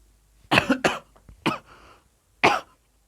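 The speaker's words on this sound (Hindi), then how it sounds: "थोड़ा खांसी आ जा रही है" Four sharp coughs from one person nearby, in two quick bursts followed by two spaced-out single coughs, with quiet pauses between.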